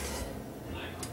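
A spatula scraping rum cake batter around the sides of a mixing bowl, giving a steady low scraping and clinking of utensil against bowl for about a second, close up.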